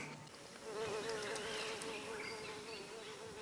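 Mosquitoes buzzing near the Crocodile River, a thin whining drone that rises and holds steady close by, over a faint outdoor background.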